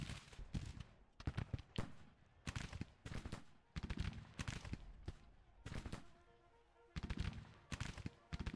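Ragged volleys of musket fire in the Civil War strategy game Grand Tactician, during the Siege of Chattanooga, with clusters of sharp cracks, uneven rhythm and brief lulls between bursts.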